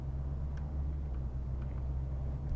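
A car engine runs in a steady low rumble from inside the vehicle as it pulls away, loud and continuous with no voices.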